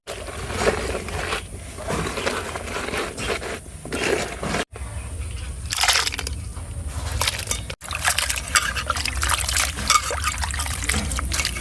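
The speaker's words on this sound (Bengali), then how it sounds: "মাছ কোটা হয়ে গেছে, এবার ধুই নিস পরিষ্কার করে।" Freshly cut mixed river fish from the Bhairab being washed by hand in water, with continuous close splashing, sloshing and scraping and two brief breaks.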